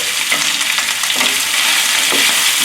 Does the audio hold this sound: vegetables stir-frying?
yes